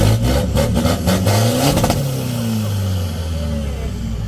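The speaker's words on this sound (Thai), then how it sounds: "คันนี้ท่อเดิมอ่ะให้ดูเสียงท่อ" A Chevrolet car engine with its stock exhaust revs hard in a few sharp bursts, then settles into a steady lower idle rumble, close and loud.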